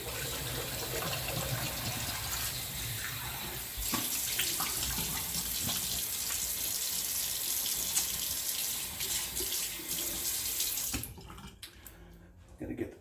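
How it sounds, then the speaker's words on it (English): Cold tap water runs steadily into a sink for a rinse after a shave, a continuous broadband splashing that stays close and loud for about eleven seconds before cutting off, followed by faint drips. "Okay, let's do a cold rinse."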